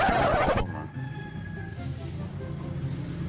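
A rooster crows loudly and close for about half a second, then breaks off, leaving a quiet background of low rustling and distant noise.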